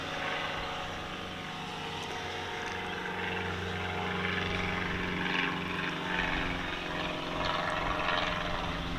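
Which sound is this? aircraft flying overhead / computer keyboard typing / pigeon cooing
aircraft flying overhead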